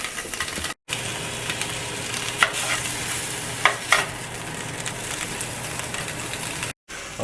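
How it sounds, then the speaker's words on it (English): Bacon-wrapped hot dogs fry in a pan with a steady, close sizzle. The crackle runs throughout, with a few sharper pops and two brief dropouts of silence. "we're just gonna fry them up real quick"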